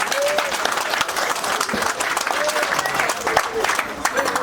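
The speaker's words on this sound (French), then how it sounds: "Vous voulez bien applaudir pour lui encore" An audience at a 60th birthday celebration claps steadily and densely for several seconds, with a voice speaking faintly beneath the applause.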